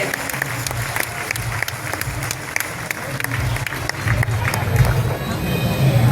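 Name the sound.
loud applause welcoming chief minister Bhupendrabhai Patel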